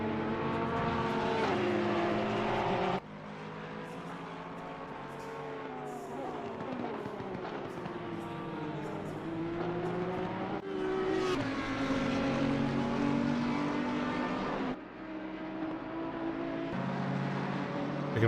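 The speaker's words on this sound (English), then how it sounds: "Keesar able to take position as they pass Yannick Plus, the headlightless Porsche." Porsche race cars at a Mount Panorama endurance race roar past one after another, loud engine notes sweeping up and down in pitch with shifting revs, near and continuous with no talk.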